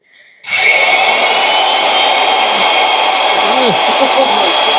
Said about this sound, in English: Alright, so now we're gonna ream the inside